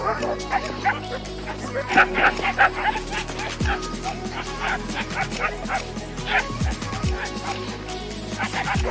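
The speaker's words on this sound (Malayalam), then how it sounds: "ഒത്തിരി പട്ടിക്കുട്ടന്മാരുണ്ട് കേട്ടോ, ഭയങ്കര ഫ്രണ്ട്ലിയാണ്." Several puppies bark, yip and whimper close by in overlapping bursts, a busy chorus of small dogs with voices mixed in, at a place housing about 250 dogs.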